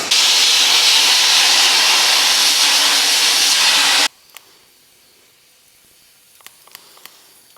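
Sandblasting a rusty steel part from a Mitsubishi Evo 8 restoration, stripped and awaiting powder coat: a loud, steady, close blast of hiss lasts about four seconds, then cuts off abruptly, leaving near silence with a few faint clicks.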